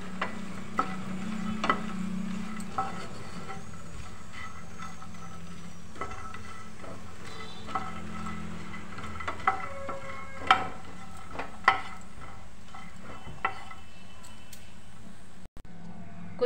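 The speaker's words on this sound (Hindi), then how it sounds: "पहले हम मखाने भूनेंगे। अच्छी तरह से भूनने हैं।" Fox nuts (makhana) are dry-roasted in ghee in a pan, with a faint, soft sizzle and scattered light clicks and scrapes of stirring, and no talking.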